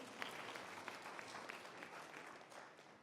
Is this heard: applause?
yes